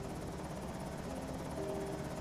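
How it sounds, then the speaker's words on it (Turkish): A helicopter flies overhead in the zombie survival game Project Zomboid, its rotor thumping in a steady, dense drone that holds at an even loudness throughout, with no speech. "Yine helikopter geldi abi. Lan üst üste ikinci helikopter bu."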